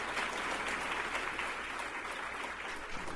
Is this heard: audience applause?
yes